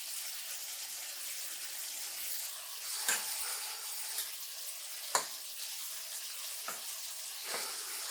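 Butter sizzles and fries in a pan with rice, a steady hiss that carries on throughout, broken by a few faint clinks and stirring sounds.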